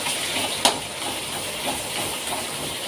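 Fish fries in a pan for a fish-head chorchori, making a steady close sizzling hiss broken by one sharp tick, with no talking.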